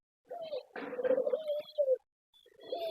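Beauty Homer pigeons cooing nearby, a few soft throaty coos in short bursts separated by brief pauses, clear and alone with no other noise.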